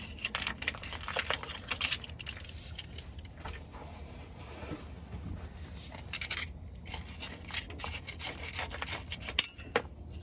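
A razor blade scrapes thick grease off a slack adjuster on an old White GMC cab-over truck in short, close, rasping strokes, irregular in pace, with no talk.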